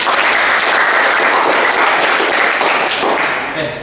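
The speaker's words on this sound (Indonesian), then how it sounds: "kita beri aplaus." Students in a motorcycle fuel-injection class give a round of applause after a correct answer, with a sustained wash of many hands clapping close by that tapers off at the end.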